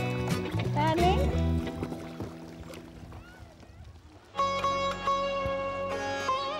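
Paddles dip and slosh through water from a boat in Nepal, irregular splashes close by, with people talking and calling out over them and a louder stretch of voices toward the end.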